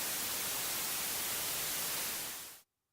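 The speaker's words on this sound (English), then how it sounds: "White noise contains all frequencies at equal intensity." A loud, steady hiss of white noise fills the air for a couple of seconds, then fades out abruptly into near silence.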